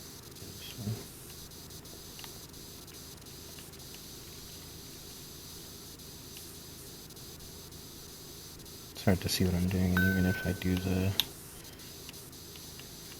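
A pressure washer sprays in the video game PowerWash Simulator while a Ferris wheel is cleaned. It is a single hissing burst lasting about two seconds, set against quiet background noise, and a person talks elsewhere in the clip.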